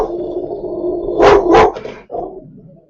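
A dog barks in a quick double burst, close and fairly loud, then gives a shorter yip. Steady background noise and muffled room sound run underneath.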